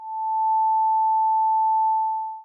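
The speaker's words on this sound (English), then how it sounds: "This wave just sounds like a single tone." A single steady pure sine tone, loud and unwavering, fades in smoothly and holds at constant pitch for over two seconds before fading out, with nothing else present.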